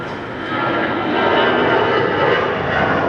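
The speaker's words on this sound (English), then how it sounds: "An EasyJet flight's just taken off." An EasyJet airliner takes off nearby, its jet engines giving a loud, steady, broad roar that holds without a break throughout.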